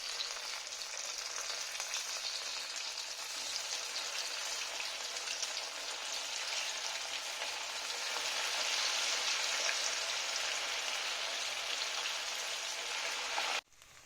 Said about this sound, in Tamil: இதை நம்ம ஆயிலில் ஃப்ரை பண்ணிக்கலாம்